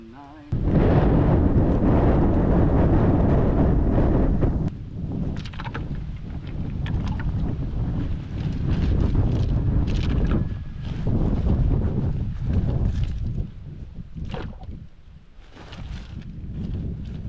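Wind and rain sweeping across a farm, with heavy gusts buffeting the microphone and a loud rumbling roar that eases after a few seconds into patchy, fluctuating blustery noise.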